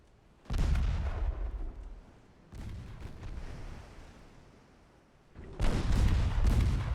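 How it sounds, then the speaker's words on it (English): Battleship guns fire in the naval game Ultimate Admiral: Dreadnoughts, booming in three heavy, rumbling bursts with a lower roll continuing between them. "I think the battleships are firing over there."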